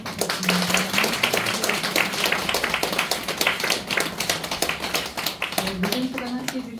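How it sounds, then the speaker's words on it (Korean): A congregation claps in thanks for a priest at an Advent lecture in a church, with sharp, fairly sparse hand claps under someone talking throughout. "다시 한번 감사의 박수 부탁드립니다."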